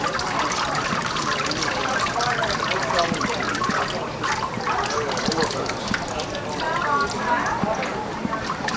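Water trickles and drips steadily from a papermaking mold just lifted out of a fiber vat at a craft fair, a continuous close dribbling wash with a faint voice underneath.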